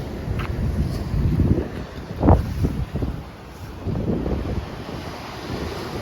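Large waves wash in steadily under strong wind rumble on an Istanbul shore, with one fuller surge of surf breaking partway through.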